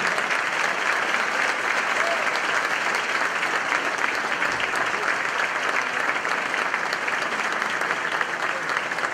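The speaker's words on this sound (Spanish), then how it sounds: "vamos a recibir con un fuerte aplauso" A large crowd applauds loudly and steadily at a political event in Vicente López, a dense wash of clapping that holds at an even level without pause.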